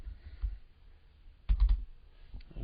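Typing on a computer keyboard in a quiet room, with a few soft scattered keystrokes followed by a short, louder burst of clicks, close and dry with no voice over them.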